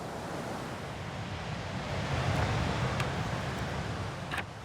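Ocean surf on the Atlantic coast off Dakar, big waves breaking on a beach, a steady broad wash of rushing water that swells slightly midway, continuous and fairly loud with some wind in the background.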